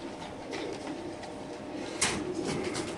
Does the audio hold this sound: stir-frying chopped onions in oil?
no